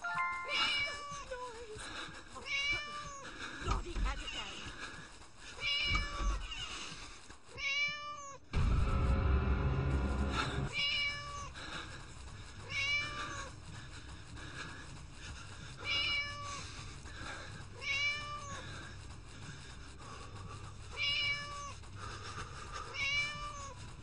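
Repeated cat meows from the video game Scary Teacher 3D, evenly spaced and clear, with a short burst of louder noise partway through before the meowing resumes.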